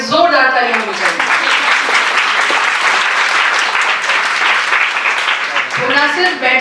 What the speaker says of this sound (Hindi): सबसे पहले तो उनके लिए जोरदार तालियां होनी चाहिए